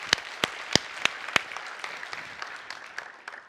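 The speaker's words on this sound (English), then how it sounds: "let's all give a real quick round of applause for the folks that have made this possible for us." Conference audience applause after a technical talk's opening thanks: a brief round of scattered claps that starts with a few sharp hands and thins out over a few seconds, moderately distant in a large hall.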